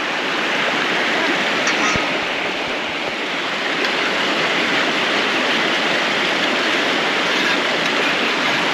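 Creek water at a campsite rushes steadily in a loud, close, continuous wash, with no talking over it.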